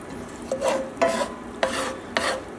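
A spoon stirs Parmesan cheese into thick, creamy rice in a pot, making four soft rhythmic scraping strokes roughly half a second apart, quiet and close with no talking.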